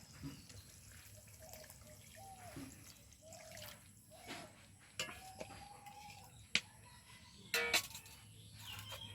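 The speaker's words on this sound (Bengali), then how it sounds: "এবার দিয়ে দেব পরিমাণ মতো জল" Water poured into a spiced mustard hilsa curry as the masala cooks, heard as quiet splashes, drips and trickles scattered in short bursts, with faint background noise between them.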